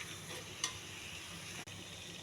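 Masala is stirred together with cooked brinjal in a pan, a soft continuous scraping and light sizzling with one small clink, close and quiet, no voices.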